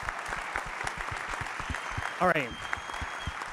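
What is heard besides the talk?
audience applause at gala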